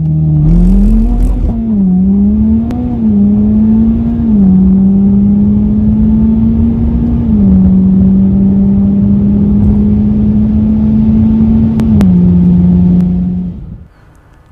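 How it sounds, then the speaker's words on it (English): A 400whp Mitsubishi Evo X accelerates hard, its engine a loud, close, sustained drone that climbs and shifts pitch in small steps before holding high near the rev limiter and then cutting off sharply at the end. "I hit the rev limiter in first gear before shifting, only just"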